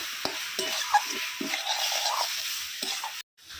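Pointed gourd is stirred into a spice masala in a pan, with soft scraping strokes of a spoon and a low continuous sizzle, close and fairly quiet.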